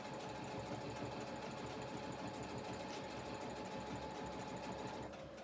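Sewing machine stitching a pillowcase runs in a continuous, even mechanical whir with a rapid needle rhythm, close and steady before easing off at the end.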